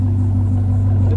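Steady low V8 rumble from a 2019 Ford Mustang GT with the 5.0 engine and a straight-piped MBRP cat-back exhaust, loud and close with a droning idle tone and no talking.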